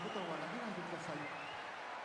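A sumo tournament crowd cheers and roars in a dense, continuous wash of voices and applause after an upset win, with commentators talking over the noise.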